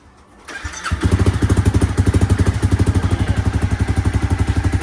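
A Honda CBR300 with a new aftermarket exhaust, baffle insert fitted, cranks and fires up, then settles into a steady, loud, rapid idle with a muffled, even exhaust pulse.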